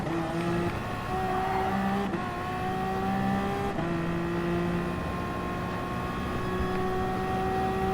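Race car engine in Gran Turismo Sport, steady loud whine with rising pitch as it accelerates through the gears, two brief dips at gear shifts, continuous and close.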